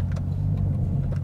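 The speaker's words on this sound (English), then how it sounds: "So let's go, the Quicksilver exhaust, I can't believe it." A Maserati Quattroporte fitted with a Quicksilver exhaust trickles along at low revs, a deep, steady burble from close by with a few light ticks over it, and no talking.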